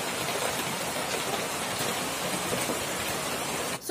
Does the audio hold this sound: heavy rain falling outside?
yes